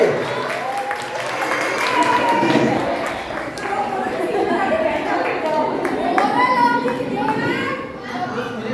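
A class of children claps and cheers together, a steady wash of applause mixed with excited young voices throughout.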